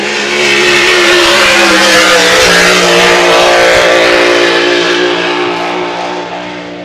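Racing hydroplane boat engine at full throttle during Grand Prix time trials at Valleyfield, a loud, sustained roaring drone close up that holds steady and then fades slightly at the end.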